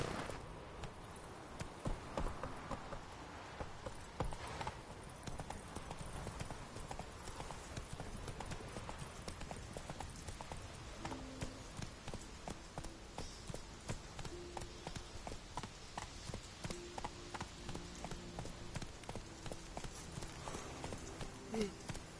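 Hooves of Roach, the horse in the Witcher 3 video game, clip-clop in a steady walking rhythm, with the pace loosening into a lighter, quicker gait toward the end amid soft game ambience.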